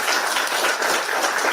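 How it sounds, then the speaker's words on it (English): An audience at a live public talk during a political visit to the US breaks into steady, dense clapping that fills the whole moment without a pause. "Now you're clapping"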